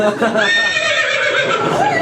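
A horse whinny in a comedy stage show, a rising then falling neigh of about two seconds with a wavering pitch that sounds like a voice imitating a horse.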